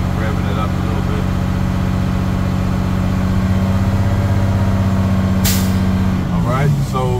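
A truck engine idles loudly and steadily, then a short sharp burst of hissing air releases near the end as the air dryer purges at governor cutout.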